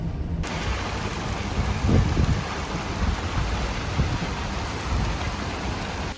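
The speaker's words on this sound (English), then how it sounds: "raging storm behind us, blue skies in front of us, and we're stuck in the middle." A raging Florida thunderstorm pours heavy, steady rain, with low rumbling thunder rolling through beneath the constant wash of drops, loud and close, with no voices.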